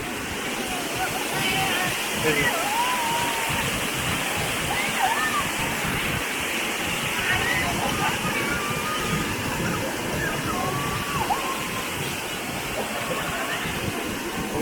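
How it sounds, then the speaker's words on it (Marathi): Sawdav waterfall in Kankavli, Konkan, roars in a loud, constant rush of water, with voices talking faintly underneath. "आपण आता वरच्या बाजूला खाली आहे सुंदर असा धबधबा"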